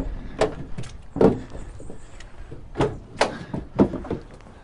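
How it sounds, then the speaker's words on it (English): Rear doors of a Nissan eNV200 electric van being opened, a run of close, sharp latch clunks and metallic thuds in quick succession, clear and unaccompanied by talk. "If we just go through the rear doors."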